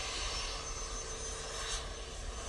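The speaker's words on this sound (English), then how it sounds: "we've got a nice little VistaJet in front of us. Using the Bombardier Challenger 350." Steady broadband roar of a VistaJet Bombardier Challenger 350 business jet at Manchester Airport, heard continuously and fairly distant, with no talking over it.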